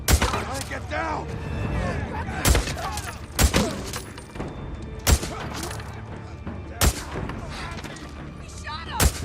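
Gunfire in the video game Days Gone: several loud, sharp shots ring out at irregular intervals, each a sudden broadband crack. Between them sits a busy bed of in-game music and other background sound.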